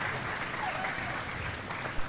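At a school investiture ceremony, an audience claps steadily for about two seconds in a hall. The sustained applause is dense and even.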